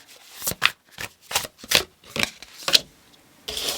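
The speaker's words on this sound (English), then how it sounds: "Let me just move the cards a little bit more." Tarot cards are shuffled and shifted by hand in a series of about eight short, crisp riffling bursts at a steady rhythm, close and clear, with no talking.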